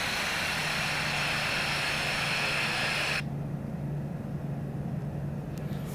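An airliner rolls along a taxiway beside the runway in the Infinite Flight simulator, a steady broadband engine roar with a low hum that abruptly drops to a quieter rumble partway through.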